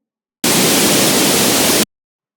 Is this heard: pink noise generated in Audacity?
yes